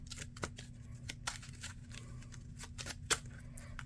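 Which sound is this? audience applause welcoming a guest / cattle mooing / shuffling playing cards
shuffling playing cards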